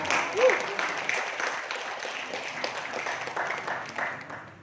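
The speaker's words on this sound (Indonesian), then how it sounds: "Aplaus buat teman-teman." An audience at a network-building training session breaks into applause: a broad, steady wash of clapping that swells early and then fades slowly, with some voices mixed in.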